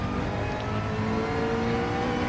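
McLaren Gr3 race car in Gran Turismo 7 at Bathurst under full throttle, a loud, steady engine drone with rising harmonic tones as it accelerates, alone with no talk.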